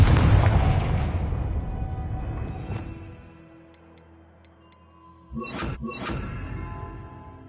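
A heavy blast from the Confringo fire spell in Hogwarts Legacy booms and rumbles away over a few seconds, followed by quieter ticking and then a second burst of crackling impacts.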